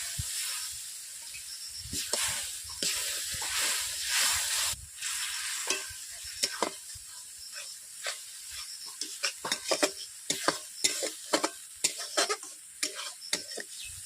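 Crab curry masala with red chilli powder and a splash of water sautés in a kadai. Hissing bursts and bubbling sputters are joined by quick, repeated scraping and stirring strokes that grow busier toward the end.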